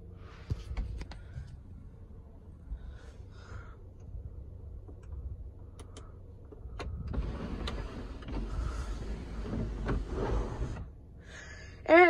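Electric motor of a 2013 Volkswagen Beetle Fender Edition sunroof whirs quietly as the roof tilts open, a faint mechanical hum with small clicks, ending in a brief louder clunk.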